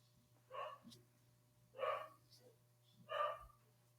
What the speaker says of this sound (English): I was wondering if you're hearing the dogs barking.